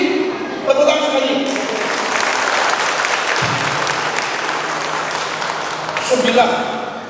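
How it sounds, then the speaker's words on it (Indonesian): Audience at a dharma sharing talk gives a loud, sustained round of clapping lasting several seconds, with a voice speaking briefly at the start and a short musical sting near the end. "Tepuk tangan sekali."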